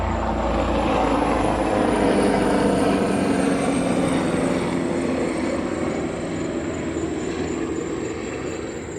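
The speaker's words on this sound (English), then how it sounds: "There's a whole freaking helicopter." A helicopter's deep rotor thrum and engine whine fill the air over a neighborhood, loud and steady overhead, then fade slightly as it moves away.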